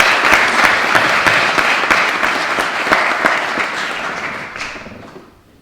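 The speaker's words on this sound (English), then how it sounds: "So can I just give a big round of applause, ask all of you for my colleagues in Edinburgh" Audience applause at a gala dinner in Edinburgh: steady, dense clapping from a large seated crowd, holding strong for several seconds before tapering off toward the end.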